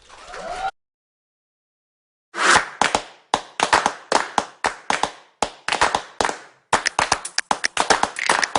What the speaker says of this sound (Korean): 이럴 때 뜨거운 박수로 환영해 주세요.